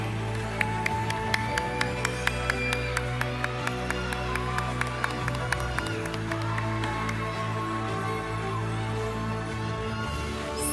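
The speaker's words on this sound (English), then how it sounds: "Let's have a big round of applause while photos are being taken." Audience applause at a school speech contest award ceremony while winners pose for photos, a steady wash of clapping lasting throughout with sharp camera-like clicks and a low background hum.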